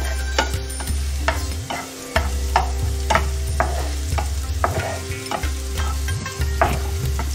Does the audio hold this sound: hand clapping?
no